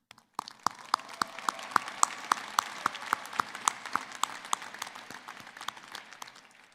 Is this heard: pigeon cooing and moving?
no